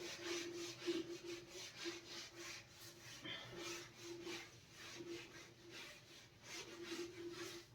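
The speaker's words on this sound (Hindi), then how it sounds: "लेट मी रब द बोर्ड।" Rhythmic rubbing strokes of a duster wiping a classroom board, a steady scrubbing texture repeating about once a second for several seconds, close and moderately loud with no talking.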